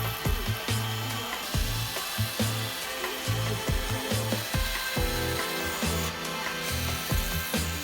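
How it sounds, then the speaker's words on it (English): Woodworking saw cutting tapered angles on end table legs, heard as repeated short cutting strokes and knocks in a steady rhythm, fairly close and moderately loud with no talking. "they are cut at an angle to give a really nice tapered look"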